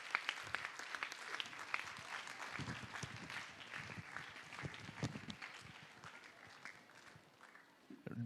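An audience claps for young child performers at a school stage program, with a moderately distant, uneven ovation of many hands that swells early and gradually thins over several seconds.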